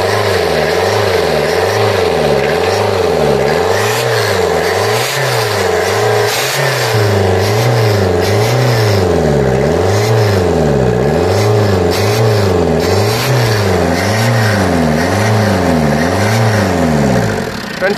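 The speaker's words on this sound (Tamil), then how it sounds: "இப்போ நான் வண்டியை ஸ்டார்ட் பண்ணுறேன்." A Tata Indica diesel car with a black-smoke fault, its engine running loudly and close, revved again and again with the accelerator in a steady rise-and-fall rhythm between idles.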